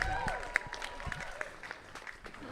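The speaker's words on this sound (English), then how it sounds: "a round of applause" Wedding guests applaud at a reception in Miami, Florida, a brief round of clapping with scattered sharp claps and whistles, mixed with murmuring voices.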